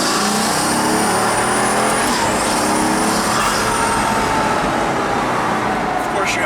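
A Pagani Huayra Project Vulcan sports car accelerates hard in second gear, its engine roaring loudly and rising in pitch from inside the cabin, with a voice talking over it.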